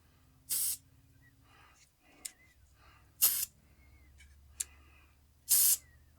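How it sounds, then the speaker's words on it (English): Rust-Oleum spray paint can with an adjustable nozzle, used on a wagon, gives three short, fairly loud hissing bursts spaced a few seconds apart, with faint clicks between them over a low background hum. "These Rust-Oleum cans have the adjustable nozzles on them."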